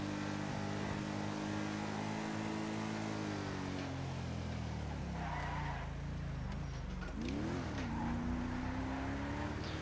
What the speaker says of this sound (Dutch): Deze auto rijdt echt heerlijk.